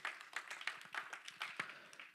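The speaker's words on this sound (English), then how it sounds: "you ought to clap real loud for that right there" A church congregation claps along in a steady, rhythmic beat, crisp hand claps repeating about every quarter second at moderate distance.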